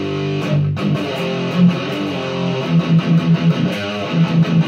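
Distorted electric guitar chugs through a heavy metal riff, with palm-muted power chords in a quick pulsing rhythm and an open low string, close and loud with no talking.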